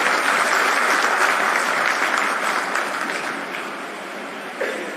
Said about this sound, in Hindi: मैं चाहूंगा एक बार जोरदार तालियां बजाकर आप सब लोग उनका स्वागत करें।